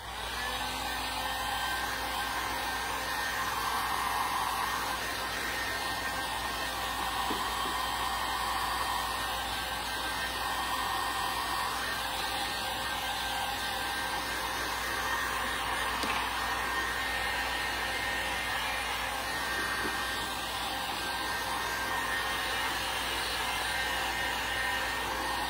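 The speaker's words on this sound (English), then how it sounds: "So I'm just going to take the heat gun to this." A heat gun blows hot air over the glazed finish of a jewelry armoire, a loud, steady, unbroken whoosh and whine that holds close and even throughout, with no talking.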